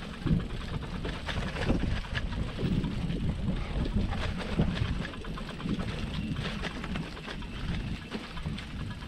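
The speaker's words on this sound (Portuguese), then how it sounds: "Tá um vento, tá um vento frio" Cold wind on a bike trail, a continuous low rumbling gust over the microphone that holds steady for the whole stretch and sits moderately loud with no voices.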